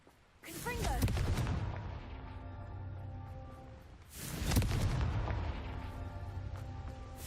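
Confringo fire spell in the Hogwarts Legacy video game, two deep rumbling blasts a few seconds apart, each a sharp boom trailing into a rolling roar, loud and close.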